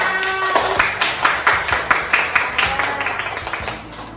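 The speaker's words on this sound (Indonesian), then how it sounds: "Oke, tepuk tangan" A classroom of young children claps hands together on a teacher's cue, a run of sharp, fairly close claps in an uneven rhythm that gradually softens, with a few voices mixed in.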